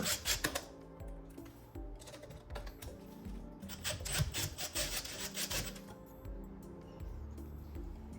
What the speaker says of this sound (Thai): ทำการขันสกู ทั้งสองตัว